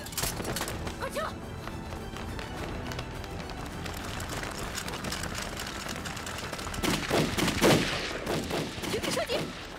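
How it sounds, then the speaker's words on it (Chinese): Gunfire in a battle scene from a Chinese war-of-resistance TV drama: dense rattling shots and bursts under a busy, noisy soundtrack, louder toward the end, with voices faintly mixed in. "停止射击。"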